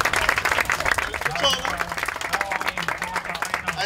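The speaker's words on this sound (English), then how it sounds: "Let's go, let's keep clapping it up, guys." Audience at a sovereignty conference event claps continuously and energetically, dense applause throughout with a speaker's voice talking over it.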